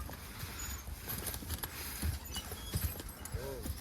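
Belgian heavyweight draft horses haul big logs up a steep hill in the woods, their hooves thudding irregularly on the ground at a moderate distance, with faint rustling and a brief voice-like sound near the end.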